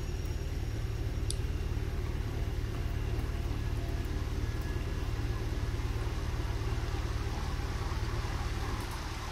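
A car speeds past in the horror game Fears to Fathom, heard as a steady, loud low engine rumble with road noise that holds evenly throughout, with no voices.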